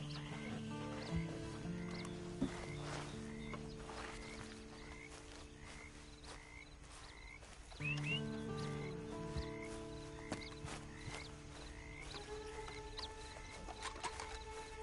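Rhythmic horse hoofbeats clip-clop steadily alongside a snort or whinny in a video game, set against a layered ambient backdrop with croaking frogs and chirping creatures.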